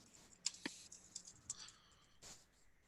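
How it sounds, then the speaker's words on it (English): Soft, sparse clicking of computer keys during a school board policy committee meeting, a few quick taps, quiet and close with no talking. "I'm typing on on my own agenda, just so you know if there's a delay"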